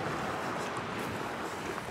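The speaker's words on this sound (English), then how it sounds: "It is incredibly cold in the wind" Constant cold wind rushes outdoors at sunset, buffeting the microphone in a broad, roaring hiss, steady and loud throughout, with no voices.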